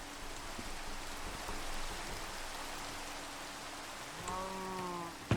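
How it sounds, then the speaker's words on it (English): Steady rain hisses over a Minecraft hardcore survival world, a broad, even wash of falling water that holds for several seconds before a short tonal game sound rises near the end. "And building in the rain is very hard."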